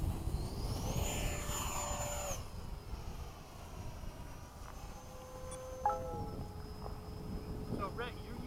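A radio-controlled model airplane, a Hawk, flies at night at a bayside field with a whining electric motor that rises and falls in pitch as it passes, under ambient noise with voices chatting.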